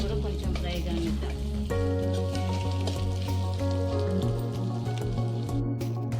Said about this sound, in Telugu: ఇది కూడా కొంచెం ఫ్రై కానిద్దాం